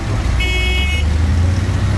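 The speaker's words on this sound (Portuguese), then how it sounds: "Eu quero mostrar um pouco aqui do trânsito da Índia para vocês" Busy street traffic in New Delhi, India, with a steady low rumble of car engines and a brief car horn toot near the start, heard up close with no talking.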